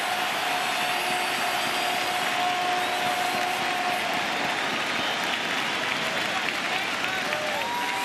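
A packed basketball arena crowd of about 19,280 at the 2003 NBA Finals, Spurs versus Nets at Continental Airlines Arena, roars and cheers in a steady, loud wash of applause with a faint sustained tone above it.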